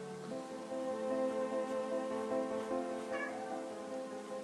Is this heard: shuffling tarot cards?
no